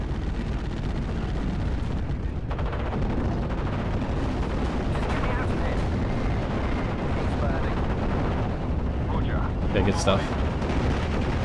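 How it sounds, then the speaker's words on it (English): Continuous artillery fire and booming explosions rumble in Steel Division: Normandy 44, a dense, steady barrage with sharper bursts near the end, while someone speaks briefly over it. "We just got to keep dodging the artillery."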